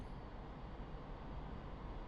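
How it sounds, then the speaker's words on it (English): Steady broadband roar of an A-4E Skyhawk jet engine spooling up in a flight simulator, with a constant low rumble, holding level throughout without any voices. "And you can hear the engine spooling up."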